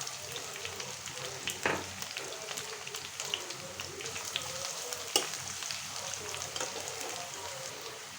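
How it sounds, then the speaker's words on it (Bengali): Chopped garlic added to hot oil with slit green chillies fries with a steady, close sizzle, broken by a couple of sharp scrapes and clacks as it is stirred in the pan. "এখন এর ভিতরে দিয়ে দিলাম রসুন কুচি।"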